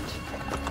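Horse hooves pounding in a steady, dense gallop in the video game Assassin's Creed, continuous and close throughout the short moment.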